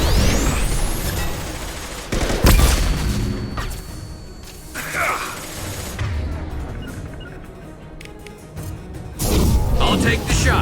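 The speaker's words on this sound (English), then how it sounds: "Watch out, flashbangs!" Flashbang grenades and gunfire in the Mass Effect 2 video game erupt in heavy booms and bursts of shots, loud and close, with a quieter lull between blasts and voices calling out over the combat.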